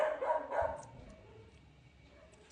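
A dog barks a few times nearby at moderate volume, then the barking fades to quiet background.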